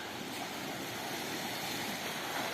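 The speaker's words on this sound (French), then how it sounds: "Avec le bruit des vagues." Continuous rushing of ocean waves washing in, a broad steady roar with no voices.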